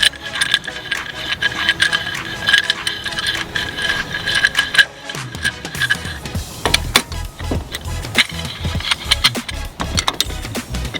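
A C-clamp cranked to push back the brake caliper piston on a 2014 Kia Forte, a run of ratcheting metallic clicks and creaks close by, growing louder and more irregular in the second half.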